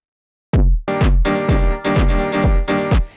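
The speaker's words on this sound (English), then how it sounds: "Now usually I wouldn't do a kick that sounds like this, but this is how Gabba does his stuff." A punchy, long Gabba-style kick drum pattern with heavy low end and strong mid-tones, hit repeatedly in a fast, steady rhythm, loud and distorted with no voices.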